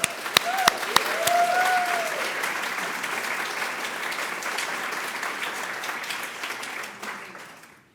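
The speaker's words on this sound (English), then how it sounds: "So a round of applause to all of you" An audience applauding at a literary fiction award ceremony, dense sustained clapping that starts with a few sharp claps, holds steady, and fades out toward the end.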